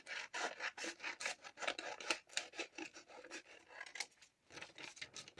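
Tracing paper being cut up close, a steady run of dry rasping snips and rubbing strokes in quick rhythm, with no voices.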